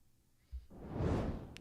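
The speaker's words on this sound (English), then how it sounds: "fireball" A fireball whoosh swells up after a brief thump, a broad roaring rush that builds and fades over about a second, heard alone.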